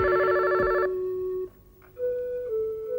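A telephone rings loudly nearby with a steady electronic tone, stops briefly, then rings again. Nobody is speaking.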